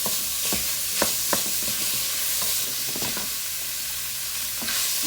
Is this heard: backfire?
no